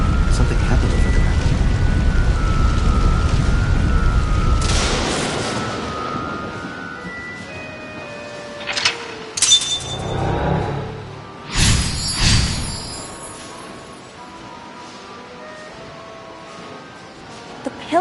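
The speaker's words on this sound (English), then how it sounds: "The pillar became a lightning rod." Lightning strikes a stone pillar in a video game, a heavy rumbling crash of thunder followed by sharp, loud cracks and bursts, with layered game effects and music over it.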